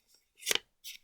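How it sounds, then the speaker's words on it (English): Paper is creased and folded for a traditional origami samurai hat, producing a short, close crisp rustle followed by a second softer swish, heard alone. "I'm going to first of all fold it up just to give it that line there"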